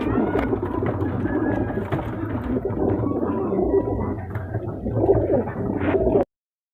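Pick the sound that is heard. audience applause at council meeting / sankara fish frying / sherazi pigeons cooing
sherazi pigeons cooing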